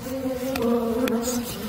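Honey bees buzzing at a hive in Lozère, a steady close droning hum with a couple of faint clicks, no voices.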